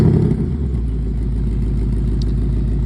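A 2024 Ford Mustang GT Premium V8 idles through its active exhaust with a deep, loud, steady rumble and a slight throb, close by and without talk.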